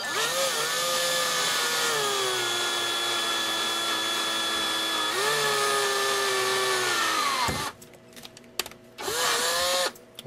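Power drill boring into metal with gun oil on the bit, a continuous whining motor hum that shifts pitch as it bites, then stops and restarts in short bursts near the end.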